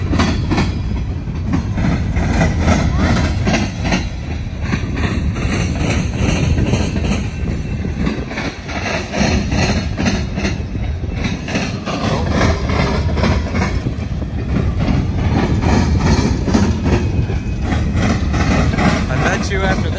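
Norfolk Southern freight train rolling past a crossing at close range, a loud continuous rumble with rhythmic clickety-clack of wheels on rail joints and engine drone, with a voice speaking over it.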